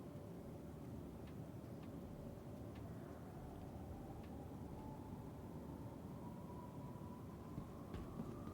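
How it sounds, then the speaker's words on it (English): A tram ride in Star Citizen, a steady low rumbling hum with a slowly rising whine and faint rattles, continuous and fairly quiet, with no voices. "I can at least get on the tram and head to the right place here."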